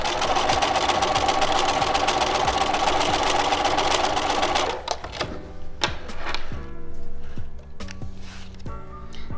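A sewing machine runs continuously as it stitches a French seam in lightweight fabric, a steady dense whir that halts midway and gives way to short bursts and clicks.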